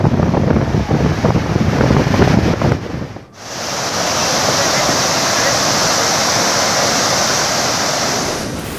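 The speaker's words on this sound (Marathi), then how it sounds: "आता यातून मोठ्या प्रमाणावर जायकवाडीच्या दिशेनं विसर्ग सुरू केलाय" Water rushes from the spillway of a nearly full dam being discharged toward Jayakwadi, a loud, steady broadband roar that briefly drops near the start, then resumes as a constant close wash.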